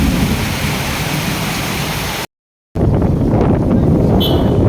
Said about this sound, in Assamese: মেঘো গাজিছে।